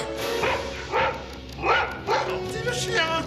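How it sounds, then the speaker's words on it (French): A dog barks repeatedly, about five or six sharp barks in an uneven rhythm, loud and close, mixed with yips and whimpers while a person talks over it. "Gentil le chien, couché."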